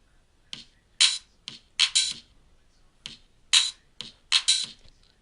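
A hip hop drum beat programmed in FL Studio with a replaced kick sample: a steady pattern of sharp, bright percussive hits with a softer low thump, played alone without talk.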